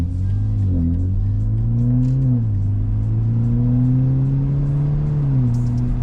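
A BMW 330e with its rear exhaust silencer removed revs up and down several times at close range, loud engine pitch rising and falling in smooth swells over a steady drone.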